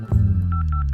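A telephone keypad sounds a quick run of short dialing beeps over a low steady hum, close and clear, with no talk.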